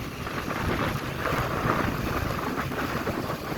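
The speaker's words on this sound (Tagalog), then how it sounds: "Grabe po ang lakas ng hangin talaga dito." Typhoon-strength wind roars steadily and loudly throughout along Manila Bay, buffeting the microphone with a constant broadband rush and no pauses.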